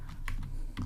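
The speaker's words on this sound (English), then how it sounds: "let's enter a name, Alex, start." A computer keyboard is tapped in a brief burst of a few quick, close keystrokes over a steady low hum, with no talk.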